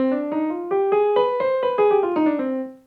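A piano plays a smooth ascending and descending harmonic minor scale of single notes, evenly paced and moderately loud, with no talking.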